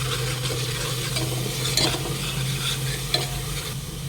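Coriander, turmeric and red chilli powder frying in oil in a pan for mutton rassa, a continuous close sizzle with steady stirring scrapes and a couple of sharp clinks.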